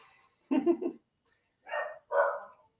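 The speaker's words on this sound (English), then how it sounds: "you hear my dog barking?" A pet dog barks at people out on the street, three sharp separate barks heard close by in an otherwise quiet room, with one bark followed by a pause and then two in quick succession.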